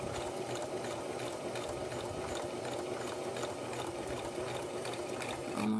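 A sewing machine runs steadily while top stitching a fabric cell phone charger case, giving a continuous close, even mechanical whir with no talking throughout.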